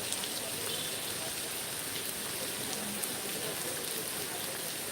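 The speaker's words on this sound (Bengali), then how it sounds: "শুধু আমি বৃষ্টির কারণে সামনের দিকে যেতে পারছি না" Steady rain falls continuously at Gulshan Lake, a dense even hiss of drops on surfaces with no break throughout.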